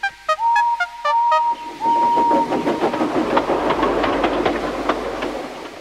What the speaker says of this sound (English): Thomas puffed in